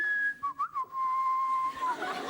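Close, clear human whistling: a steady held tone that wavers briefly in a few short bursts, then sustains smoothly, with faint background chatter.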